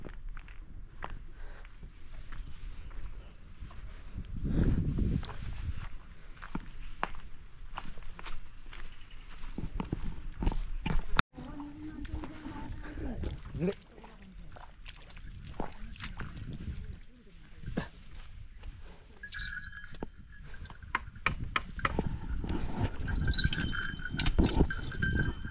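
Bullocks with cowbells plod onto a Konkan rice field during rainy-season paddy transplanting, their bells clinking and hooves thudding irregularly, close by under steady talk.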